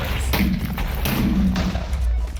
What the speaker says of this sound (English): I've set the firing button to left click, so let's see the effect of the flak round